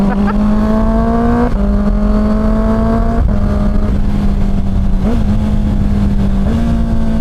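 A 2025 Honda CBR650R E-Clutch motorcycle engine revving at high RPM, a loud, steady inline-four wail held near and close, with brief gear-shift dips repeating every second or so.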